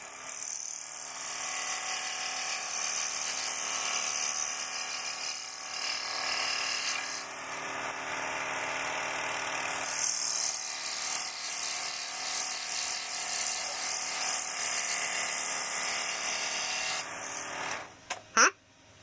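A small power tool whines steadily with a high buzzing tone while working on a wooden dragon puzzle, continuous and close for most of the stretch before cutting off with a few knocks at the end.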